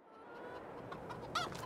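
Chickens clucking in the video game Farming Simulator 22, a faint, soft flock murmur that builds slightly with a few sharper clucks near the end, heard alone without talk.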